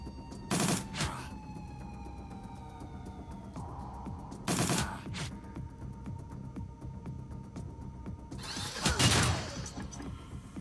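Gunfire from an aimed shot in the video game Shadowrun: Dragonfall comes as three sharp bursts spaced several seconds apart over a quiet humming background.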